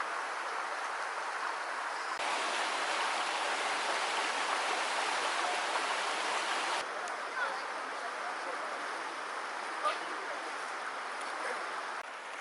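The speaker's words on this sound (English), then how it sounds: "How do you like that pour-off right there?" Water pouring off rocks in a canyon in Zion Narrows rushes and splashes nearby, a continuous broadband roar that fills the whole stretch without pause.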